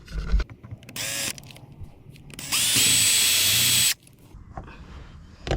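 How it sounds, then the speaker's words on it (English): A power drill with a 7mm bit whirs in short bursts, a brief spin-up followed by a longer steady high-pitched run, then stops; close and loud. "I'll try a 7mm drill bit now"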